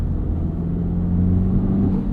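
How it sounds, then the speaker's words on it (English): A 2024 Acura Integra Type S sends a steady, loud exhaust drone from inside the cabin, a low engine rumble with a sustained tone that holds evenly throughout. "I wish the exhaust sounded like this."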